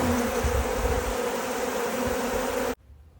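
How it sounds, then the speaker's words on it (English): Honeybees buzz in a dense, continuous, close drone during a beekeeper's winter feeding, then the sound cuts off abruptly near the end. "we're going to do some winter feeding of some honeybees"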